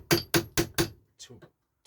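A small toffee hammer strikes a Ford Transit Connect door hinge four times in quick, even, sharp metallic blows, close and loud, followed by a few fainter knocks.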